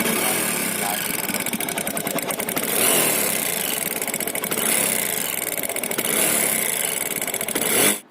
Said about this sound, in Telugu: క్లాక్ సౌండ్ అనేది ఒకసారి రేట్ చేసి చూద్దాం.